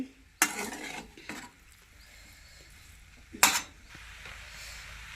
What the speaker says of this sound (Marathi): बटाटा जो आहे तो असा खालीवर एकत्र करून घ्यायचा